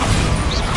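A Bombarda blasting spell impact in Hogwarts Legacy, a single short, dense crashing burst that fills the moment loudly with no voice over it.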